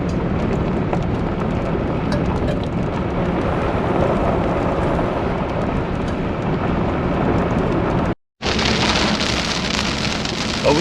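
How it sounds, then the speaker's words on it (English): Loud, dense rainstorm near Williams, Arizona, heavy rain hammering a nearby surface in a constant roar, briefly cut off near the end before resuming. "we got off the dirt just in time for a nice little rainstorm"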